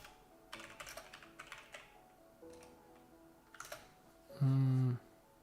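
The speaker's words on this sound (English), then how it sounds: "For now, I'm just typing." Someone types on a computer keyboard while building a web app, making scattered clusters of quiet clicking keystrokes with pauses between them, followed by a short loud tonal beep near the end.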